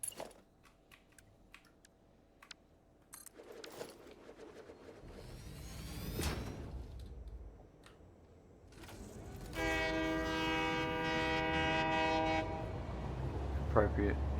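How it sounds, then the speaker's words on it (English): A train in the factory-building game Satisfactory sounds a sustained horn blast and rumbles along the rails, with rolling noise building and then a long loud horn sounding near the end. "Appropriate train sounds."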